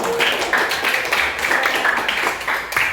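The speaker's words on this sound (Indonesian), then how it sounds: "bagus, tepuk tangan dulu" A classroom of students claps together in a brief, lively burst, with quick uneven hand claps close by and fairly loud, without talking.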